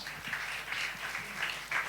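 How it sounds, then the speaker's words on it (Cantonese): An audience applauds to welcome a guest speaker at a school talk on internet safety, giving steady, dense clapping that holds at an even level for the whole stretch with no voices over it. "我哋俾啲掌聲"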